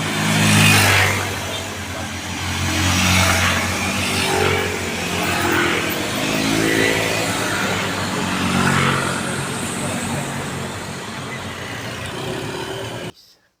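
Motorcycles and cars roll past on a foggy mountain road, engines swelling and fading as several vehicles go by in turn, a continuous loud rumble that cuts off abruptly at the end.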